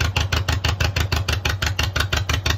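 A John Deere MT tractor's two-cylinder engine runs steadily, its loud, evenly spaced putt-putt beats pulsing close by with no voices.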